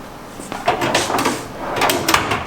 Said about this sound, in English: How'd that drawer slide?